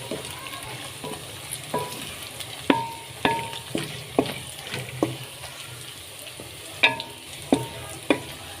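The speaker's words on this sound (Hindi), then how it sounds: "लहसुन को थोड़ा सा भून के हम इसमें ये जो खड़े मसाले हैं वो डाल देंगे।" Garlic and whole spices fry in oil for chicken korma under a steady sizzle, while a spoon scrapes the pan in a string of regular, clear, close strokes and nobody speaks.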